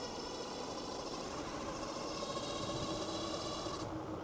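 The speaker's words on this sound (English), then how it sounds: "here I am just cheating completely riding this e-bike" A Tuttio ICT e-bike ridden outdoors in the Hollywood Hills, with a steady electric motor whine and rolling rumble that carry on unbroken and fairly loud throughout.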